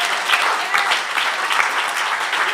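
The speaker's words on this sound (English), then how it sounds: "Can we give him a round of applause?" A round of applause at a Saturday action rally, an audience clapping steadily and fairly loudly, close and continuous for the whole stretch with no talk over it.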